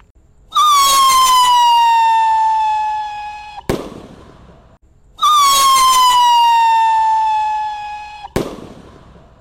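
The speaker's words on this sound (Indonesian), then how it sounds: "Kita nyalakan roket pirotar Roman candle warna biru ini." A blue Roman candle firework fires two shots, each a loud, gliding whistle lasting about three seconds that ends in a sharp crack, nearby and in the open air.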